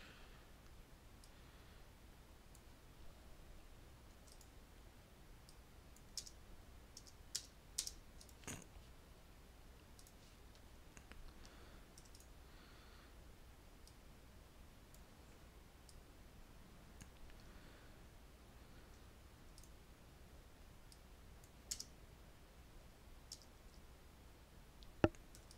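Sparse, faint mouse clicks from a computer user working in 3D modelling software on a vehicle body, scattered singly and in small clusters over quiet room tone with no talking.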